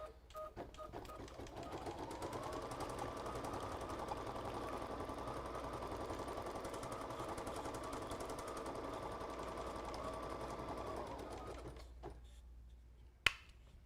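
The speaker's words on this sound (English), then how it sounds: "I'm going to run the next color stop, which is going to stitch me an outline." An embroidery machine stitches an outline on a tea towel in a hoop: a steady, fast mechanical whirring and needle chatter, close and even for about ten seconds, then winding down and stopping with a sharp click.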